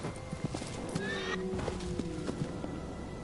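Hooves clip-clop steadily as Agro, the horse in Shadow of the Colossus, gallops, with a sharp whinny breaking through partway; the gait stays close and rhythmic under faint background game sounds.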